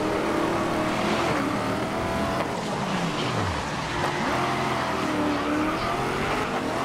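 A Ford Mustang GT race car engine in the GRID street racing game roars continuously and loudly, revving up and down through gear changes with tire squeal and other cars close by.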